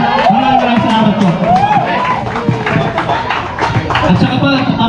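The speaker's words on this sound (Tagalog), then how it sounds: "Isang malakas na palakpakan at hiyawan" A crowd at a barangay dart tournament claps and cheers loudly, with whoops and shouting voices mixed into a dense, continuous wall of applause.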